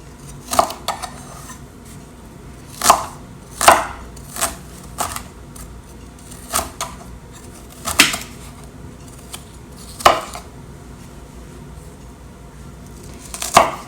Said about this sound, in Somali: waxaan u jarjari doonaa dheer sidaan oo kale ah